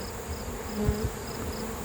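Honeybees drone around an open beehive in a steady, close, low buzz, with a few individual insects passing near.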